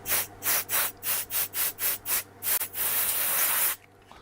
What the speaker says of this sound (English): Let's give that a spray.